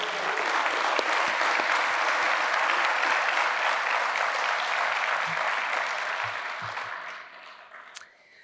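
A commencement crowd at an executive MBA graduation gives a sustained round of applause, dense and steady before gradually thinning and fading out near the end.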